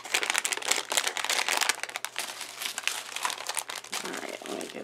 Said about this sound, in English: let me get this tissue paper out of the way